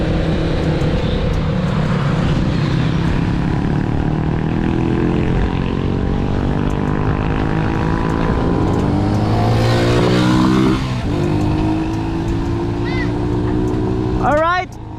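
A motorized tricycle drives past during a typhoon evacuation, its loud buzzing engine drone steady and close with harmonic whine shifting as it passes, while people talk over it.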